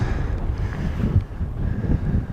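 Gusty wind on a chalk hillside of the South Downs, buffeting the microphone in uneven rumbling swells at moderate loudness, with no voices.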